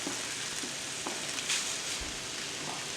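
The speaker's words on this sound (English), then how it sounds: "Oh, that sounds sizzling." Bacon frying in a pan, giving a soft, steady sizzle with faint crackles; quiet and continuous, no talking.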